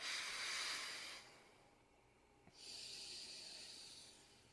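Slow, audible breathing close up during a stretching exercise: a long airy exhale, a pause, then another long breath, with no talking.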